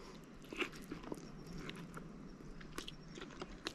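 Biting into cooked giant crayfish or lobster at a camp on an uninhabited tropical island, with faint close crunches and chewing at irregular intervals over quiet outdoor ambience.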